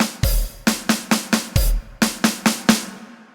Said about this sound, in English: we're going to go for a choked hi-hat.